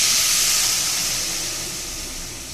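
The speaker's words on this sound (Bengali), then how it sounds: "এবারে জল দিয়ে দিচ্ছি।" Water poured into a hot pan of bean and potato curry sets off a loud, close steam hiss that gradually fades over a couple of seconds.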